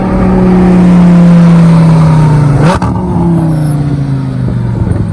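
An Audi car engine roars loudly as it approaches and passes close by, its pitch dropping sharply as it moves away.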